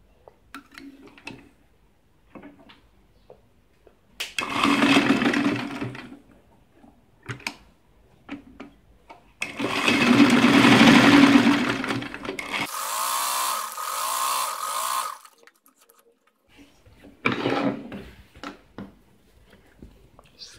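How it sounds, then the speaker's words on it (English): A sewing machine runs a straight stitch down the middle of a fabric piece for a trumpet skirt, in a few close, buzzing runs with quiet gaps and light handling noises between them. "I'm just going to run a straight stitch on the middle just to divide it into two."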